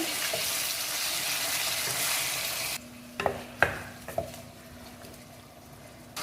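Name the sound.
sautéing washed chicken pieces in oil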